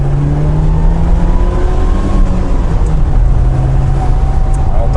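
A Mercedes SLK's engine revs as the car accelerates hard, a loud, steady drone that climbs in pitch, heard from inside the car with people talking over it.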